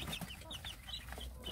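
Native Korean chicken chicks cluck and peep softly while pecking at green cabbage leaves. Scattered high chirps sit over a low, quiet background rumble.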